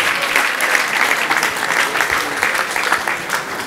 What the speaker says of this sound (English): give him a big round of applause for the honesty